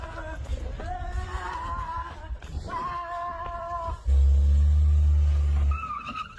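A car brakes in a car park with tires squealing. A loud, sustained screech of about two seconds stands out against echoing engine and tire noise, close by and without talk.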